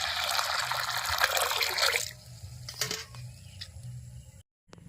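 Water is poured over washed masoor lentils in a bowl to soak them, a strong gushing splash for about two seconds that then tapers into soft trickles and drips.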